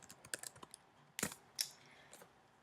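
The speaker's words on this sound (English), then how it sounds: "I'm going to type it out." Computer keyboard typing: a quiet run of separate key clicks in irregular bursts, with a few sharper, louder strikes partway through and no talking.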